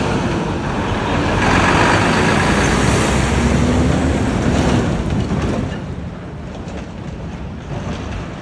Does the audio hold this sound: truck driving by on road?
yes